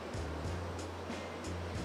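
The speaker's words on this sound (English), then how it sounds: "Got the waterfall behind us." A waterfall pours steadily behind anglers fishing a lake in Ontario, a faint, constant rushing wash with a low rumble underneath and no one talking over it.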